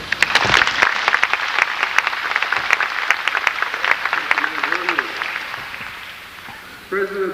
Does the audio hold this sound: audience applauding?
yes